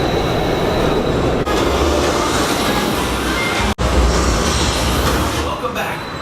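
Coaster train of the Electric Eel roller coaster clattering and roaring along the track, a dense rushing rumble with brief dips and steady rail noise throughout.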